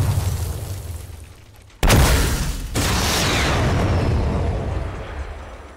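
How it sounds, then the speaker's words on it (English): A guided rocket explodes in a video game with one sudden loud blast, followed by a sustained roaring rumble that slowly fades. "quickly, just guided rocket him"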